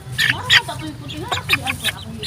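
Chickens and a rooster cluck in a series of short, close calls over a low background hum, with faint human voices in the background.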